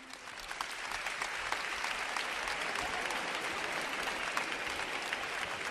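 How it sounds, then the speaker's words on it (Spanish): A TV game show studio audience bursts into loud, continuous applause for a new contestant, a thick wash of many hands clapping that holds steady throughout. "damos ya un fuerte aplauso al nuevo concursante"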